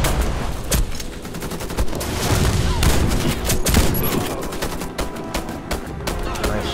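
Rapid gunfire in the Warface video game, with dense bursts of shots, including a shotgun, fired close and loud in quick succession, with faint voices in the background.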